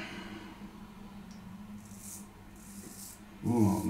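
A C.V. Heljestrand straight razor scrapes across stubble in a traditional shave, giving a continuous close rasping and rubbing sound with soft variations in stroke, ending in a louder, fuller scrape.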